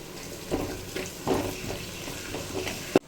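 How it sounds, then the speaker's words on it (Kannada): Ginger garlic paste frying with onion in a pan, cooked for okra gravy: a steady low sizzle with a few scraping stirs and a sharp knock at the end, no voices. "ಈಗ ನಾವು ಶುಂಠಿ ಬೆಳ್ಳುಳ್ಳಿ ಪೇಸ್ಟ್ ಹಾಕ್ಕೊಳ್ಳೋಣ"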